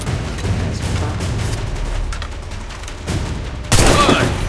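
Gunfire in the video game Assassin's Creed 3 rumbles as a continuous distant battle din, then a sharp, loud shot or blast cracks out near the end and rings on.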